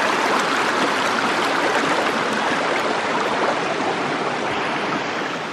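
Small rainforest creek at Protesters Falls flowing beneath a little footbridge, a steady close babble and rush that holds evenly throughout, with a single brief spoken word near the start.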